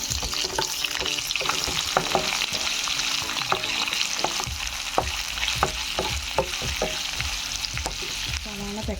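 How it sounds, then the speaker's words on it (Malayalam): Chopped onions and green chilies sizzle and fry in masala in a pan, a steady hiss broken by regular scraping stirs of a spoon, close and fairly quiet, with no talk. "ഇതിലേക്ക് നമ്മൾ അരിഞ്ഞു വെച്ചിരിക്കുന്ന സവാള ഇട്ട് കൊടുക്കാം. പിന്നെ കൂടെ തന്നെ പച്ചമുളക് ചേർത്ത് കൊടുക്കാം."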